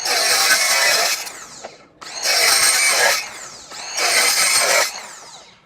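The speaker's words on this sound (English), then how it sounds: "Just makes it extremely easy to cut miters, cut quick cross cuts on steel," A Ryobi 18V cordless miter saw fitted with a Diablo Steel Demon blade cuts steel in three loud, close bursts of harsh metallic grinding, each about a second long and separated by brief pauses as the blade spins down.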